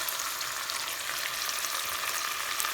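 Tomatoes frying in a pan with garlic-ginger paste, a steady bright sizzle and hiss that holds even and loud throughout with no voices.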